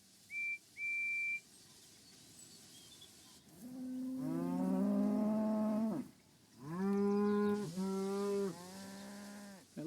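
Cattle moo in the Thomas & Friends: Wonders of Sodor game, two long loud lowing calls in sequence after a couple of short whistle toots, alone with no talking.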